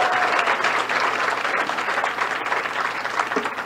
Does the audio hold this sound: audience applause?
yes